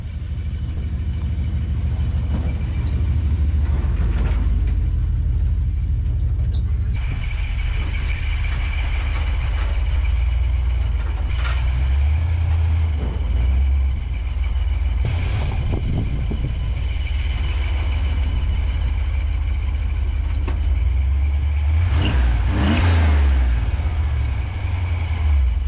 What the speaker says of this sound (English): She kind of sounds like she's idling high.